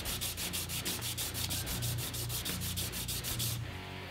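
Hand sanding of wood with fine 320-grit sandpaper, a steady rhythmic scratching of quick back-and-forth strokes, close and continuous, ending in a brief pause.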